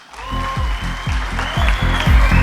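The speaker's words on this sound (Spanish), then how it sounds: "¡Un aplauso, muchachos!" An audience applauds at the close of a talk, a brief but full burst of dense clapping that swells steadily over a few seconds, with rhythmic low thumps underneath.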